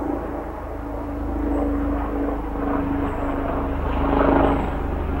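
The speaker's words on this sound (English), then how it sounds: "Here comes a helicopter." A helicopter flying overhead in Connecticut gives a steady, fairly loud droning hum that swells slightly as it passes, with no voices.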